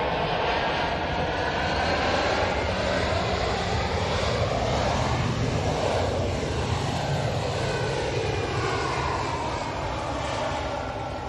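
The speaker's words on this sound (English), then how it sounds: "Ryanair 737 in from Dublin now" A Ryanair Boeing 737 arriving from Dublin roars past, its jet engine noise loud and broad, swelling and fading with a sweeping whine as it flies by, with no talk.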